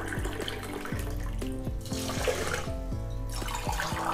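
Water pours into a pot of rice, a close, steady splashing stream with bubbly gurgles and occasional glugs, heard on its own without talk.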